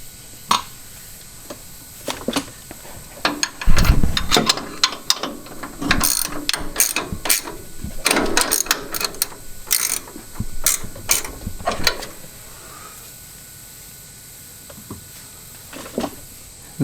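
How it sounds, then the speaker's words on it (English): A ratchet tightens the ball joint nut on a Caloffroad upper control arm during a suspension install, giving repeated bursts of sharp clicking pawl strokes, close and fairly loud, with pauses between runs and no talk. "And then tighten your ball joint nut back up."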